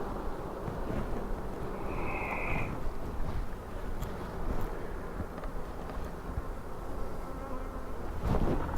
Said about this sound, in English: That's just so many bees.